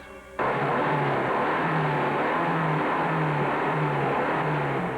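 A car engine revving roughly with an uneven, misfiring idle like a busted valve, needing a tune-up; a steady loud rumble starts abruptly and pulses in a rough, repeating rhythm.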